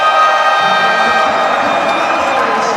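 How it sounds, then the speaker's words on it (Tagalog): A basketball crowd at a Pampanga versus Batangas City game roars in sustained cheering and shouting, a dense, loud wall of voices that holds steady throughout. "Listen to this crowd erupt."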